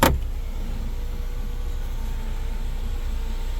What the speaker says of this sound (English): here in the car on the rear motor here, I'm gonna go ahead and operate it.